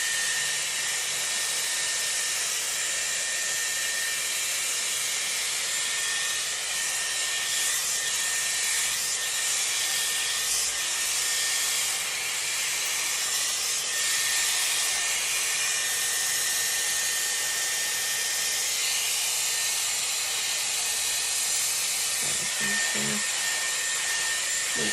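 Dyson Airwrap round brush drying hair, giving a steady, loud, continuous airflow roar and hiss that runs unbroken throughout with no talking.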